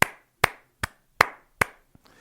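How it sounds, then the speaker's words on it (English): Five slow, evenly spaced claps ring out close and crisp in a quiet room, a deliberate golf clap, followed by a faint sixth tap. "I give it the golf clap of the week"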